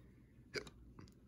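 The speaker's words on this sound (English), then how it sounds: "I do have the hiccups" A person with the hiccups lets out one sharp, close hiccup mid-clip, followed by a softer second one, against a quiet room background.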